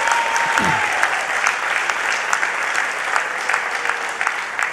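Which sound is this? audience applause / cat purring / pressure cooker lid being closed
audience applause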